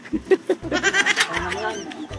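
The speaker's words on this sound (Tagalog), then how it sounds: "Ito yung kambing na may bangs." Goats bleat several times, close and loud, in short repeated calls among livestock, with people talking in the background.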